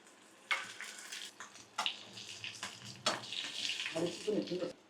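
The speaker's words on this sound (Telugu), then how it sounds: "చలో ఈ పోసుకు తగ్గట్టు సరిపడంత నూనె పోసుకుందాం. ఫస్ట్ ఇది వేసేసుకుందాం. తర్వాత అల్లం, తర్వాత మిరపకాయలు వేసేసుకుందాం." Ginger and green chillies hit hot oil for a dal tadka, giving a sharp crackling sizzle that bursts in at intervals and builds into steady frying with stirring clatter.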